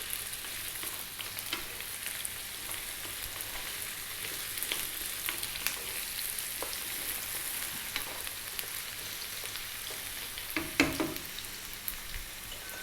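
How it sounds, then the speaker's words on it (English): Finely chopped red onion sizzles in a hot pan, a steady crackling hiss with occasional stirring scrapes and clinks, close and moderately loud, no voices. "So now we will proceed by putting in our onion. I'm using a red onion,"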